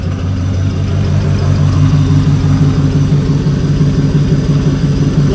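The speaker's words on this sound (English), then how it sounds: "Side mount exhaust, loud as usual." The engine of a 1995 1500 pickup truck idles through a loud side-mount exhaust, giving a close, steady, deep rumble with an even pulsing throb and no talk over it.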